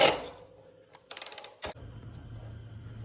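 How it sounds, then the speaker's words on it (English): An upper front suspension bolt on an MG TD is tightened with a ratchet, a quick run of about seven sharp clicks followed by a clunk, close by and fairly loud in a quiet garage. "Now we'll tighten up the upper bolt and put the cotter pin in."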